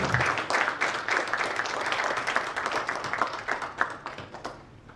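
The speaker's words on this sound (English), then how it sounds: "all join our hands together to welcome with a round of applause." An audience applauds a welcome at a technical knowledge session on injection grouting systems, steady clapping filling most of the stretch before thinning and tapering off near the end.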